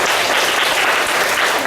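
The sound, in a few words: audience applause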